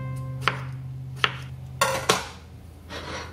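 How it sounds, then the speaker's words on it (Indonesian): A knife slices thinly through a young cucumber on a board, giving four separate sharp cuts spaced about half a second apart. The fourth cut falls just after the third, and a softer scrape follows at the end. "Selanjutnya saya akan mengiris-iris timun."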